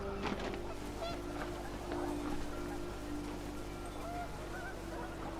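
Panicked geese honk in the What Remains of Edith Finch video game, scattered faint calls over a steady low hum and wind, fairly distant.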